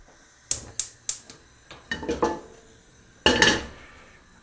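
A small cooking pot (cocotte) being handled, with three quick metallic clanks followed by a cluster of clattering knocks and one heavier, longer rattle, all close and without speech.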